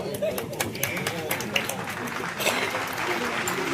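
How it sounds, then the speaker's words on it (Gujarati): Audience applause at a community honouring ceremony where guests are draped with shawls and given bouquets, a dense crackle of clapping that carries on steadily under a voice speaking over it. "આપણે તાળીઓના ગળગળાટથી આ સન્માનને વધાવીએ."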